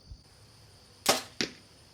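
Arrows fired at a Vegas target face, giving two sharp thwacks in quick succession, the first louder with a brief rattle and the second close behind, over a faint background hum.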